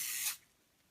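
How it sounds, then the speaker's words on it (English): A short burst of starch misted from a hand spray bottle onto Brusho craft colour, a bright, close hiss lasting about a third of a second and then cutting off to near silence. "then I'm just going to spray a tiny bit more"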